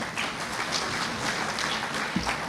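An audience at a business event applauds a Maruti Suzuki chief mentor with a brief, steady burst of clapping, moderately loud and continuous, without voices over it.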